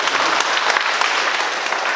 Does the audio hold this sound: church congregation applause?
yes